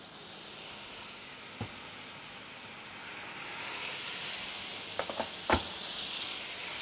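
Water poured onto onions frying in a pan sets off a loud steamy hiss that swells and lingers, broken by a few sharp clicks of a utensil near the end, without any speech.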